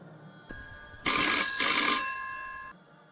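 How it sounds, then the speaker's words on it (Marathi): A telephone bell rings once, loud and close, a bright trilling ring lasting under two seconds that fades into near silence. "त्या रात्री दोन वाजून सतरा मिनिटांनी फोन वाजला"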